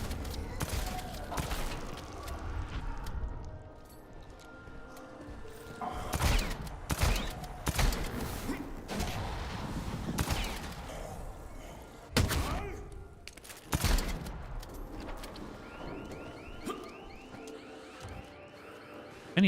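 Shotgun blasts in Dead Island 2 come as a string of sharp, loud booms spaced a second or two apart, mixed with thuds and game noise over roughly twenty seconds.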